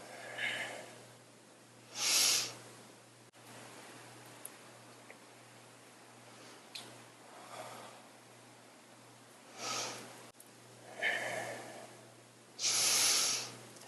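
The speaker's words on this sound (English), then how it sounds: "Inhaling and exhaling." Deep rhythmic breathing in a kundalini yoga class for anxiety and stress relief, with airy inhale and exhale bursts about every few seconds over a quiet hum, close and fairly soft, no talking.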